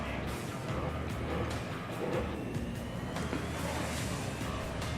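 A lone superstock race car laps a circuit at the Wellington Superstock Shootout, its engine a steady, loud roar that swells and fades as it circles, with no other cars nearby.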